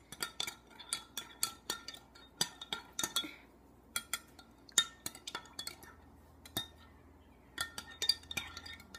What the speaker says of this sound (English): right now I'm just gonna mix it all up